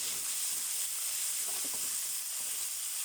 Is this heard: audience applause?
no